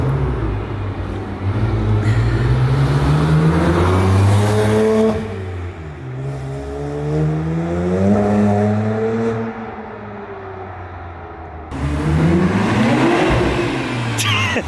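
Grey BMW 335i with a new exhaust revving hard, its deep thrum rising and falling in pitch over several pulls, loud and close with no talking.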